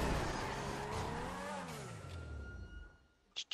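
A car in the video game GTA 5 drives and skids, its engine tone sweeping up and down under tire noise before fading away, followed by a couple of short sharp bursts at the end.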